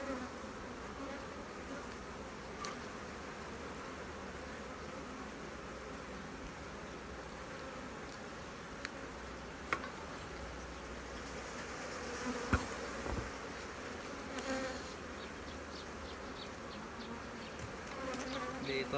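Honeybees hum steadily and densely around an open hive during an inspection of its frames of honey and pollen, a close, continuous drone with a few sharp bumps and clicks from handling the frames.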